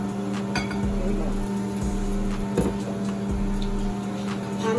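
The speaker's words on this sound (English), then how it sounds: "Time to stir it." Mashed potatoes made with boiling water are stirred in a pot, giving intermittent scraping and clinking of a utensil against the pot amid a steady background hum, with faint voices nearby.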